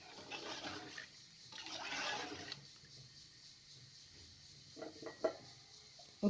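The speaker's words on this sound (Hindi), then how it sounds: "अब आप इसके अंदर तकरीबन 2 किलो पानी शामिल कर दें" About two kilograms of water is poured into a cooking pot for aloo chicken and chana pulao, alongside chopped green chilies. A loud, rushing pour lasts a couple of seconds, then fades to quieter trickles and a few light clinks.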